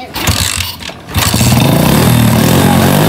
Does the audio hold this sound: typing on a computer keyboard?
no